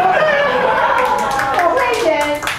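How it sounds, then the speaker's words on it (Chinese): Hand clapping from a Rotary club audience at a Father's Day meeting, a cluster of sharp claps in the second half rising over a sustained voice and other talk. "我们给他掌声一下"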